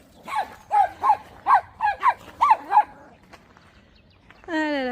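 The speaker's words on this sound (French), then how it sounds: "César, arrête d'aboyer." A dog named César barks in a quick series of about eight close, sharp barks, then goes quiet against a faint outdoor background before a brief high whine at the end.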